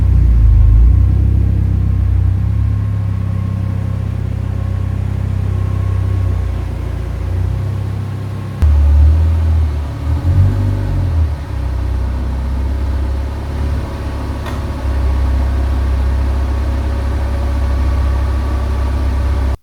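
A 1988 Ford Escort RS Turbo engine rumbles loudly and steadily at low revs as the car drives into a garage, with a brief thump and shifting note partway through and no voices.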